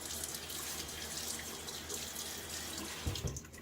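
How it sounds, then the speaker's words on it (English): Water running from a bathroom sink tap while someone splashes hard, lukewarm water onto their face, a steady faucet stream with a brief louder splash near the end. "I'll splash my face with a little bit."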